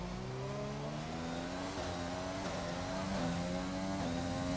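Race car in a racing video game at the Canada circuit blasting past the pit straight, a loud high engine scream with rising and falling pitch as it passes close.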